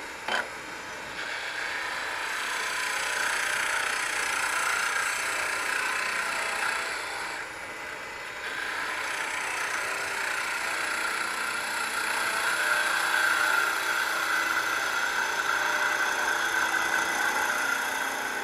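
A wood lathe spins a wooden box blank while it is turned, giving a steady mechanical whir with a faint scraping hiss of the tool that dips briefly around the middle and continues throughout.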